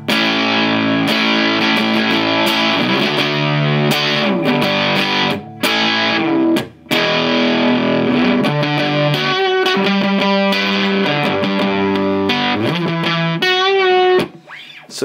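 Heavily distorted, buzzing guitar-like tone from a circuit-bent Behringer UC100 distortion effect, playing sustained notes and chords, loud and saturated, with a few brief drop-outs between phrases.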